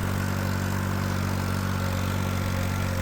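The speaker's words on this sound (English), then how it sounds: "while Jeffrey does the raking in the Fiat, I'm in the air-conditioned, dust-free John Deere doing the baling." A John Deere tractor baling bahiagrass in southern Mississippi gives a constant, loud engine drone with a low rumble, heard from inside the air-conditioned, dust-free cab.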